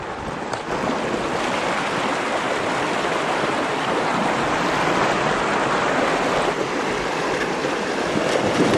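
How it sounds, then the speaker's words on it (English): A desert creek flowing steadily, a constant close rush of water over rocks with a dense broadband hiss that holds level and unbroken throughout. "It's cool to be back down by the creek."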